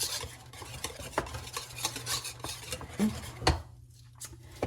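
Dried garlic powder being stirred into a ranch dressing mix, a close scraping and rubbing of a utensil in a bowl with a few light clinks, repeated irregularly with no talking.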